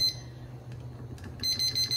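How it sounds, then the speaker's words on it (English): A kitchen timer being set while pasta salad is made, giving short electronic beeps at the start and a quick run of near beeps toward the end, with a faint hum of the room underneath. "I will go ahead and set the timer"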